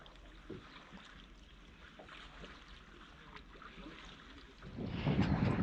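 Wind gusts across open water around a bass fishing boat, a low steady rush with faint small knocks, swelling into a louder buffeting of wind against the microphone near the end.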